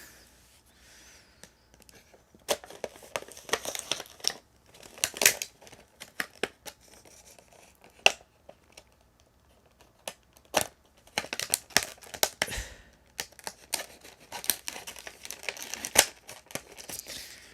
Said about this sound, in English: So just going to go ahead and get it out of its packaging.